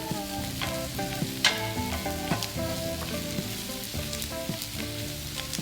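Vegetables seasoned with salt and pepper frying in a pan, with steady bright sizzling and repeated scraping strokes of a utensil stirring them, close and moderately loud.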